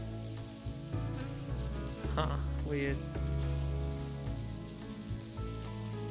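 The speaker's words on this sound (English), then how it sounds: "It's like suddenly rain and thunder sound effects." Rain sound effects fill a video game scene with a steady hiss under music and tones, while a person speaks briefly over it.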